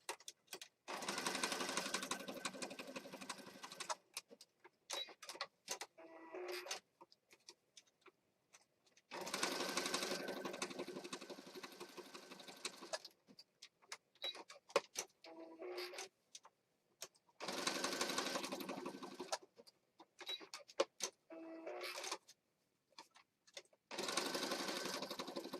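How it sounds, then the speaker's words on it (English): A sewing machine sews zigzag stitches across a paper junk journal page. It whirs in several bursts of a few seconds each, with quiet gaps and small clicks and ticks between the runs. "I'm just going to do some quick zigzag stitches on it."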